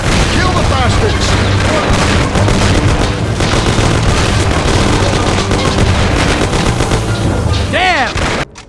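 A 1930s-style gangster shootout in Mafia on PC: continuous loud, rapid gunfire and booming shots fill the whole stretch, with shouting voices mixed in, before cutting off abruptly near the end.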